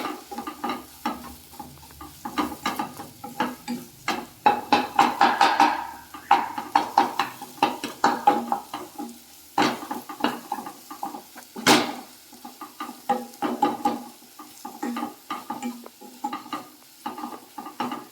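Spices for a village-style ladyfinger (okra) sambar fry in a pan, with a steady sizzle under frequent scraping and stirring strokes from a utensil against the pan, close and continuous.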